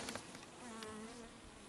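Steady, close honey bee buzzing with a low drone and wavering hum, as of many bees around a hive, continuous throughout.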